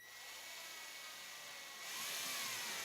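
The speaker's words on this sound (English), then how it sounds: "I'm just going to go ahead and drill that through until the tip is coming out of the front" A power drill driving a screw through a piece of wood, a steady high whine that rises in pitch and strain partway through, faint and heard alone.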